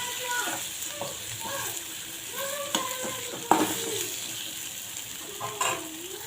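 Tomatoes and spices sauté in a pan and get stirred, making a soft, continuous sizzle with a few clicks of utensil against pan, while a voice talks quietly over it.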